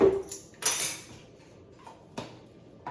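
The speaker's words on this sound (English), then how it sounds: "just use the teaspoon to stir it around, make sure it dissolves" A metal teaspoon stirring baking soda into an electrolyte drink in a glass, a few sharp clinks against the glass with quieter swirling between them, close and with no talking.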